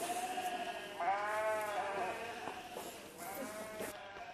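Sheep on a farm bleating: two or three drawn-out, wavering calls from several animals, fairly close, with background noise and no speech over them.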